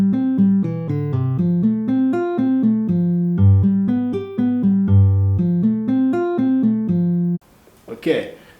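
Fingerstyle guitar plays an African rumba seben pattern, a steady run of bright plucked notes over a bouncing bass line, close and clear, before a voice briefly speaks at the end.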